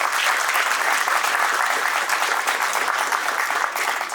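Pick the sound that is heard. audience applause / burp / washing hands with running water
audience applause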